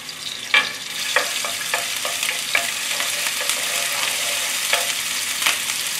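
Ginger and garlic are stir-fried in a wok for a Chinese vegetable and thick rice noodle dish. A steady hissing sizzle runs throughout, broken by intermittent sharp spatula scrapes and clinks, close up and without speech.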